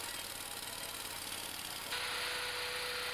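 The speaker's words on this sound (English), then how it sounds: "One pass with a vibratory steel wheel roller." A vibratory steel wheel roller compacting hot mix asphalt during paving, a steady droning engine with a constant buzzing vibration that grows louder partway through, with no talk.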